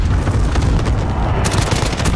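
Cluster airstrike explosions in a multiplayer war video game set at a palace, a dense run of heavy booming blasts that rumble continuously, with a sharper burst of crackling impact noise partway through.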